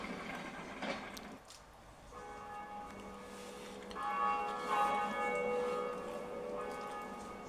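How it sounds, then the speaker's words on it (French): Bell atop the cathedral in Dark Souls rings out for the first time, a loud struck toll whose sustained metallic tones swell and linger, layered over a low ambient game rumble. "La première cloche au sommet de la cathédrale de Prague."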